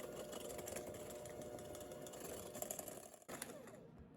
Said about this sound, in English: grab your electric beaters and get all of your ingredients mixed up